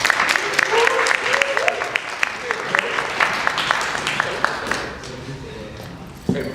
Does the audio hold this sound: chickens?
no